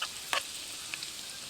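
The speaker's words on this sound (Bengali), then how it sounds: "এখন এই তেলের মধ্যে দিয়ে দেব আদা কুচি, রসুন কুচি। আদা রসুন খুব ভালোভাবে ভেজে নেব।" Chopped ginger and garlic fry in oil in a wok, giving a faint, steady sizzle with a couple of brief louder crackles near the start.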